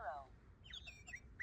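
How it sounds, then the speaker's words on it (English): A few short, high chirps from a sparrow, quiet and brief, following a faint squeaky call at the start. "Sparrow."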